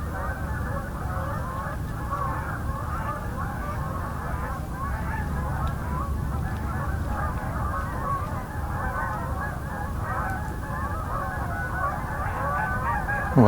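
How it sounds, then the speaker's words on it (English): Canada geese honking continuously in flight, a dense chorus of overlapping calls at steady volume over a low rumble. "This is an incoming flight of Canada geese."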